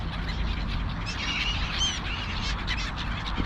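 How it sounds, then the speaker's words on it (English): Gulls and crows call at an evening bird feeding, mixed with pigeons: a steady dense chorus of squawks and cries close by, with continuous flock noise and no talking. "we got black-headed gulls, we got our crows, we got our silver gulls"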